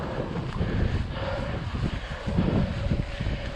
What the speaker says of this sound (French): Il y a du vent. Beaucoup de vent.